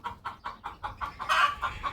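Chickens cluck inside a chicken house, a steady rhythm of short calls repeating about every quarter second, fairly faint, with a slightly louder burst of squawking near the end.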